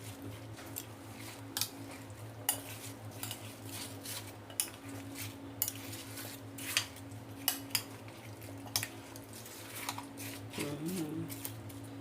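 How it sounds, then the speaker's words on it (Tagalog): Chicken veggie salad with apple being tossed in a bowl, with repeated sharp utensil clinks and soft wet squishing at an uneven rhythm over a steady background hum, a voice talking at times. "haluin lang natin guys"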